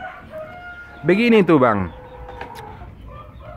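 Chickens in a small home-scale laying coop, with one loud, close crow-like call in the middle and scattered softer clucks and bird sounds around it, while someone speaks briefly.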